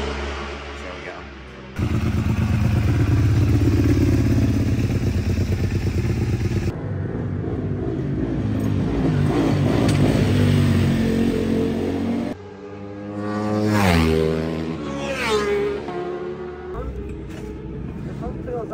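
A Ducati V2 supersport bike at full race pace in a British Supersport session, its engine roaring loud and close onboard, revving hard through gear changes with rising and falling pitch sweeps under braking and acceleration.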